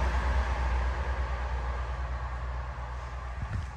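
A passenger train rumbles steadily past at close range, a broad low roar with rushing noise that slowly eases off.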